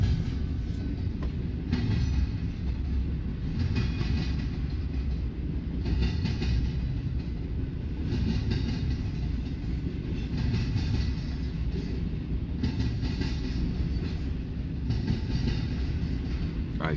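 At night in Fremont, Nebraska, a freight train passes nearby with a continuous heavy rumble and a rhythmic clatter of wheels over rail joints, steady throughout.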